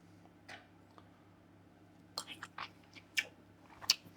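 Chewing while tasting Turkish lamb pasta, several soft, close mouth clicks and squishy bites at an uneven pace over a low background hum, with no talking.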